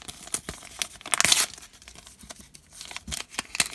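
Taped toy blind bag packaging is torn open in quick crinkly rips and crumples up close, with a sharp tearing burst near the start followed by scattered rustles and pulls.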